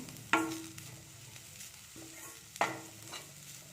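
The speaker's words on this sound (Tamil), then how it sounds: "புதினா நல்லா ஃப்ரை ஆகட்டும்." Chopped mint leaves fry in a pan for a cauliflower-stuffed chapati filling, a soft sizzle broken by two sharp scrapes of a spoon stirring against the pan.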